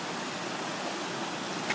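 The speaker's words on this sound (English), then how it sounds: "So the whole river's got these rocks that makes a cascading waterfall sound." A rocky river in Costa Rica rushes and cascades over stones like a waterfall, a dense, steady roar of water close by with no other sounds above it.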